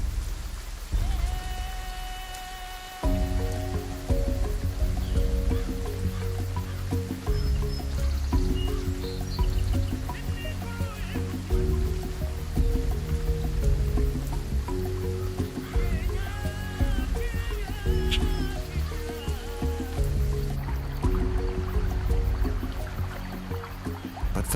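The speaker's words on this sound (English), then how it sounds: "When the rain arrives, the parched plains come to life" Steady rain hisses down over the parched African plains at the start of the wet season, a continuous wash of falling drops under a tonal musical score.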